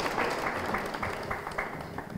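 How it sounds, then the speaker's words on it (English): An audience at a Black History Month program gives a brief, faint round of hand clapping, soft and somewhat distant, lasting a couple of seconds. "that is worth a hand clap"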